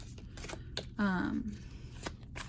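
Double-sided tarot cards being shuffled by hand, a quiet run of crisp papery riffles and taps, with a brief vocal sound in the middle.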